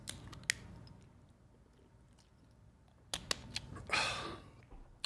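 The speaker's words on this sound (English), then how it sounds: "Gotta drink me some water." A person drinking water, with close mouth sounds of sips and gulps, a few sharp clicks and a short louder burst near the end, and no talking.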